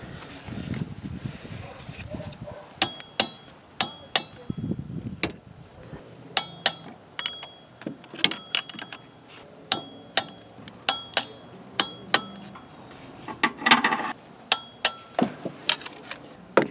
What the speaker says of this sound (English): it says tighten to 21 Newton meters. So I'll get my, we'll set that there. And get this torque wrench here